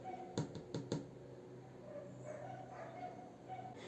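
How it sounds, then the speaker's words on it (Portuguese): Dogs give three quick sharp barks close by, followed by fainter whimpering and yips against a steady background hum. "Cachorros."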